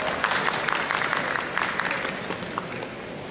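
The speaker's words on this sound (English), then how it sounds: "So please welcome them with a huge round of applause." An indoor audience at a hackathon opening ceremony applauds steadily, with dense, moderately loud clapping that continues throughout, greeting alumni guests.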